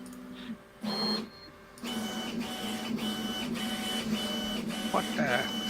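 A 3D printer runs at maximum travel speed with a loud, steady motor whine and regular rhythmic pulses as the head moves quickly, while people talk over it.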